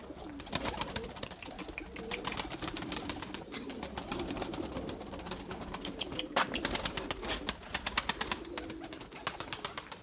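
Purebred Erzurum white pigeons coo softly inside a coop in a low, repeated murmur, joined by scattered clicks, shuffles and wing rustles, all faint and close.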